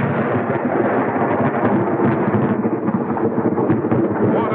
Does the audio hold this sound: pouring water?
no